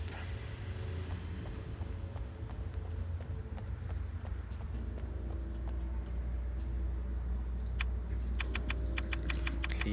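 Keys click rapidly to bypass a damaged control box in Alan Wake, a quick run of light taps over a steady low ambient rumble.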